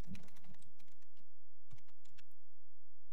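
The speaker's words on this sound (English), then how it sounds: "you can type fairly well on it" Keys clatter on a Tandy 1000 SL/2 computer keyboard while typing in FreeDOS, with quick close bursts, a brief pause, then a second short flurry.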